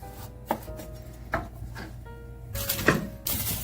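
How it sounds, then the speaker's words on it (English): A knife slicing celery stalks thinly for a roast leg of lamb gives a few sharp, separate cuts on a board. The cuts are close and moderately loud, set over low kitchen hum. "we're going to put some celery stalk. And I'm slicing them just a little bit to be a little bit thinner"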